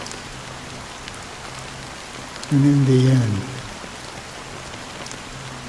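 Steady rain falls in Honkai Star Rail, a constant soft hiss that runs throughout while a voice speaks briefly over it midway.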